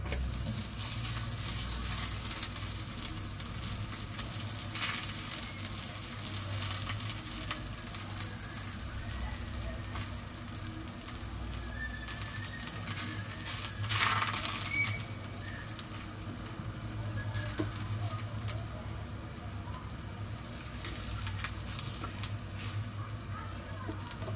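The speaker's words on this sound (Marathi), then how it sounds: "इथे तव्याला ना थोडं तेल लावून घेतलंय. त्याच्यावर पराठा घालते." A methi paratha fries on an oiled tawa, giving a steady, close sizzle and soft patter that runs throughout with little change in level.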